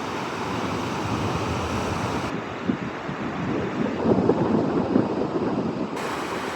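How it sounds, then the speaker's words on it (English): Ocean waves break and wash continuously onto the beach at Seaside Park, New Jersey, a steady broadband roar that swells slightly louder midway, with some wind buffeting the microphone. "Really good longboard waves this morning."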